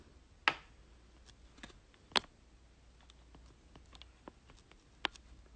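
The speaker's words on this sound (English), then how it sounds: "I am typing in the title" A computer keyboard is typed on sparsely, with a few sharper clicks and faint scattered keystrokes at an irregular pace. It is quiet and near, with no voices over it.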